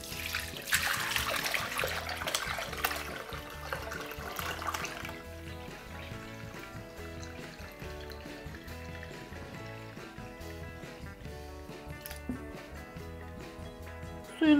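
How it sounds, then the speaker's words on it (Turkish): Turnip juice drains through cheesecloth, a steady soft trickle and dribble of liquid, with a brief splashier pour at the start, close and fairly quiet. "Suyunun süzülmesi yeterli."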